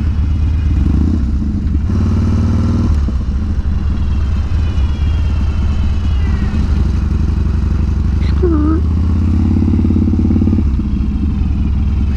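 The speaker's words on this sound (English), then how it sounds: "the exhaust on here sounds just freaking great" A custom Harley-Davidson Street Bob rumbles loudly while ridden, its exhaust a deep, continuous throbbing drone with shifts in pitch as the rider works the throttle, close and dominant with wind and clatter mixed in.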